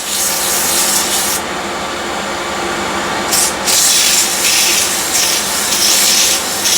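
Steady, rough sanding of end grain wood in a hollowing with 120-grit paper, a loud rasping hiss that pauses briefly and resumes with shifting pressure.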